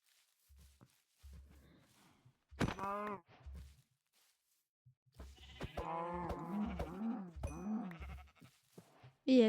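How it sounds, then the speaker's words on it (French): Sheep in the Minecraft survival game bleat repeatedly, several overlapping calls from a flock rising together in the second half, with soft footstep thuds between them and no talking. "Et il y a 2000 moutons là."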